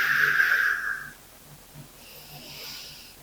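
A breathy exhale during a seated chair Pilates exercise, a strong airy rush for about a second, then quiet softer breathing, close and without talk.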